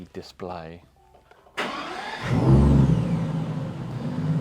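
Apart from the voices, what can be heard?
car engine starting and running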